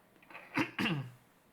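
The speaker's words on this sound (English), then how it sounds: "So I'm gonna be clearing my throat for a lot of video." Someone clears their throat in two quick, rough bursts close to the microphone, then quiet follows.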